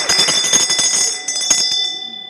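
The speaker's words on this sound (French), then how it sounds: "j'ai entendu la cloche retentir" A bell rings repeatedly in a parliament chamber, a loud rapid metallic trill with bright sustained overtones, sounding in quick bursts before fading out near the end.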